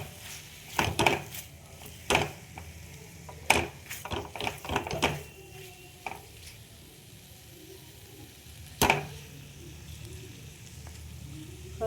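Pumpkin pieces cooking in butter in a pan over a low gas flame, with a soft sizzle running under several sharp utensil clinks and scrapes against the pan.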